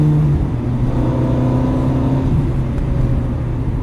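Aston Martin or Ferrari sports car on a track accelerating at full throttle in fifth gear, a loud steady engine drone with harmonic tones holding close and continuous throughout.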